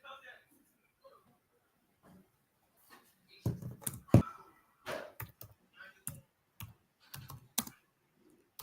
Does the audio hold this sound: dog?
no